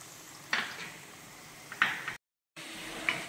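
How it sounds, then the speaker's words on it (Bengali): Steady sizzle of potatoes frying in oil until browned, with a few brief louder bursts of stirring or scraping, and a short moment of silence near the end. "আলু আমাদের লাল লাল করে ভাজা হয়ে গিয়েছে"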